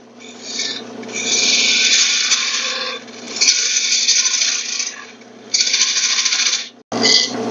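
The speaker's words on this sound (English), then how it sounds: "Got our parting tool just to create a tenon." Wood lathe with a parting tool cutting a tenon into a wooden goblet blank, a loud rasping, scraping cut in several sustained passes with short pauses, ending in a brief gap and a final burst.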